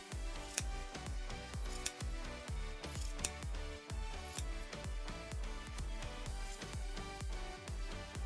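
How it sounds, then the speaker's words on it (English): Sharp scissors snip through the yarn loops wrapped for a pom-pom, giving a quick, steady run of close, crisp cuts with a few sharper clicks. "So just have some really nice sharp scissors on hand and cut all the loops"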